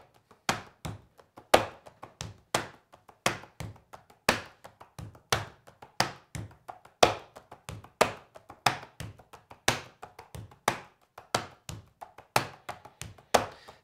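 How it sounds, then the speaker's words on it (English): Hands drum the Arabic Debka, or Maksum, rhythm on a tabletop. Dull thumps and sharper taps repeat in a steady, looping groove, close and moderately quiet, with no talking. "this next rhythm is an Arabic rhythm. Some call it the Maksum,"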